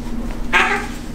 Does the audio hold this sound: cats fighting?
yes